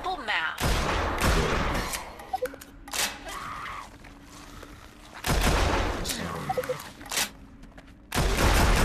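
Dual-wielded guns fire in the video game Drop Dead: Dual Strike, loud and close: sustained bursts of rapid shots broken by short pauses and lighter clicks, with a voice talking over part of it.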